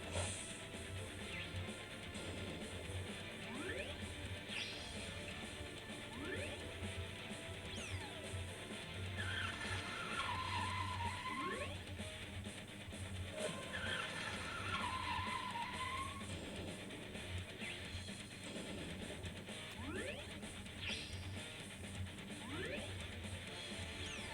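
Video game car chase with skidding tires: a steady dense engine roar fills the scene, crossed by repeated screeching tire skids, some short and sliding, others longer, with occasional crash-like impacts.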